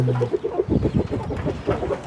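Farm chickens kept for sale cluck and chatter close by, a busy run of short repeated calls from several birds with no talk.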